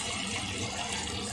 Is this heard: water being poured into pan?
yes